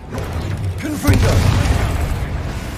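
Confringo explosive spell cast in Hogwarts Legacy, a deep booming burst that swells suddenly and rumbles on briefly, with a voice speaking spell names over it.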